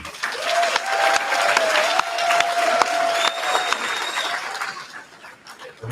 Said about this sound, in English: just give a big round of applause for business boxing